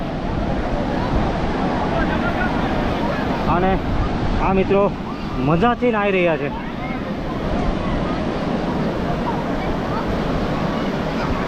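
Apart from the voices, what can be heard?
high sea waves crashing at Ubharat beach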